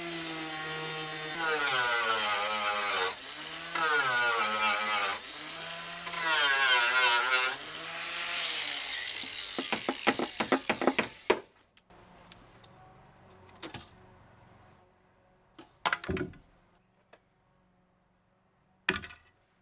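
A power cutter slices out a rust-crusted body panel near a mud flap support bracket on a Discovery project vehicle, a loud, wavering buzz for about eleven seconds before it stops, leaving quiet clanks and knocks.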